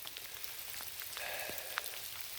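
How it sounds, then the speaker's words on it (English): Rain falls in the Big South Fork forest on a wet morning, a soft, steady patter of drops with occasional sharper taps close by, faint and continuous. "Rainy morning here in the Big South Fork."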